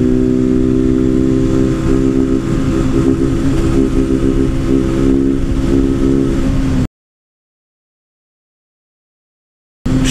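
Honda Titan 160 motorcycle engine revving hard and buzzing against the limiter, loud and close with a steady harmonic whine, then cut off by about three seconds of silence before a brief return.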